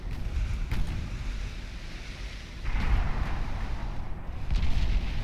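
Heavy naval shell impacts strike a heavy cruiser during a battle in Ultimate Admiral Dreadnoughts, a dense low rumble of distant booming fire that swells louder halfway through, with no talking.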